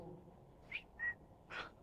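Faint whistle inside an abandoned garage: three short separate tones, thin and distant against low background noise.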